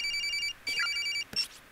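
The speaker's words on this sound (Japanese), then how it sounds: "着信表示も出ていない、音だけが鳴っている。" An incoming call rings on a mobile phone in the horror game Corpse Party: a bright electronic ringtone pattern of repeated beeping tones, cut short and followed by a brief rising chirp.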